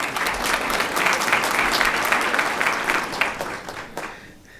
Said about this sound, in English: Mr. Hecker, we can applaud you again